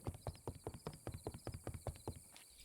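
Horse hooves in a Minecraft modpack video game, a steady, close clip-clop of about a dozen evenly spaced hoof strikes at a brisk walking pace, quiet and alone with no talk.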